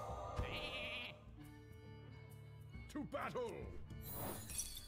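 Sheep bleats from a video game, a wavering animal cry over layered game music and sound effects, with a brief high burst near the start and another bleat toward the end.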